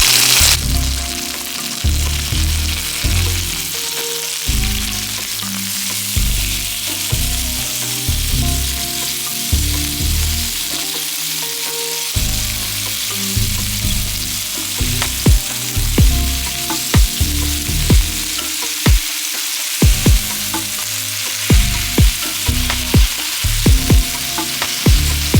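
Boneless chicken thighs fry in a pan with a loud, continuous sizzle and crackle, punctuated by recurring scraping and stirring knocks, close up and steady for about twenty-five seconds without talk.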